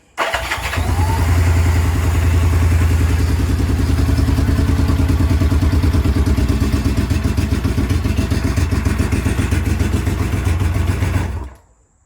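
A motorcycle engine cranks on the electric starter, powered by a NOCO NLP14 lithium-ion battery, catches, and settles into a loud, steady running rumble close by, then cuts off.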